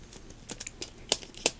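Scattered quiet clicks of typing on a computer keyboard, irregular keystrokes with a couple of sharper taps, no voices.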